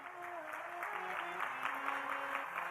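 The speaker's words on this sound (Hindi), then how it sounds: "ठीक से ताली बजाइए" Devotees clapping at a Ram Katha religious discourse in Jaipur, a steady crowd applause that holds for the whole stretch with soft tonal singing or music running faintly beneath it.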